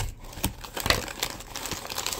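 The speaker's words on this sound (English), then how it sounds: "Let's do some scissors here." Crinkly plastic packaging rustles and snaps as it is cut, with a few sharper clicks and crunches close by.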